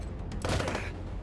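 A brief burst of gunfire, a short crackling volley that fades quickly, with no voices, in the video game Wasteland 3.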